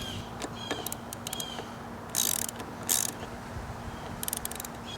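Socket wrench ratcheting as a nut is tightened on a Yamaha YZF-R3 motorcycle brake lever, quiet clicking strokes in short bursts with faint background hum.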